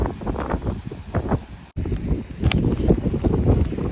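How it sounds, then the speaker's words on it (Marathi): Blustery wind on the hilltop of Korigad fort buffets the microphone in heavy low rumbling gusts, with a brief dropout partway through before the roar resumes. "आपण गाड्याच्या अशा ठिकाणी खूप हवा आहे"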